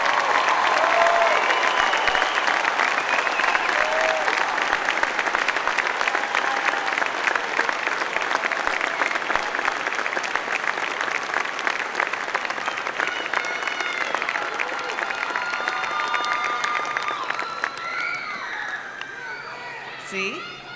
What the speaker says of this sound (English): help me to clap and cheer for these remarkable students